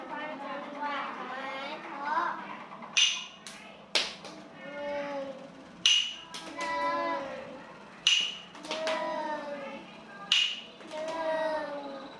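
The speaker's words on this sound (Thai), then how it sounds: "ฝึกการฟังจังหวะไม้เคาะ" Wooden clapper sticks in a preschool rhythm-listening exercise give a few sharp, crisp knocks at uneven intervals, heard under continuous talking.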